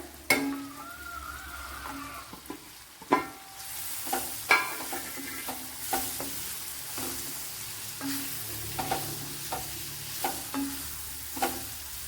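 Bitter gourd for pickle fries in hot oil in a pan, with a steady sizzle broken by repeated sharp scraping stir strokes at an irregular rhythm, close and fairly loud, with no talking.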